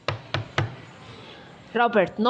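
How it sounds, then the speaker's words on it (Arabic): Three sharp knocks on a door, evenly spaced and close, then a short pause before a voice begins speaking. "knocked on Granddad's door"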